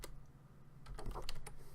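Computer keyboard arrow keys pressed in a few quick, soft taps, close and quiet against a low background hum.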